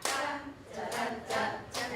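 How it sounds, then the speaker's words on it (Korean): A group claps together in rhythm at a Korean 7080-era singing class, with several sharp, loud unison bursts of hands landing close together over two seconds. "그럼 박수가 여섯 번이 돼요."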